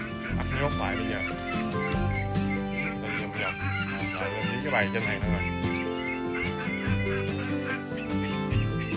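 Male Muscovy ducks and geese give hoarse honks and hisses in a busy flock, with a person talking briefly over the noise.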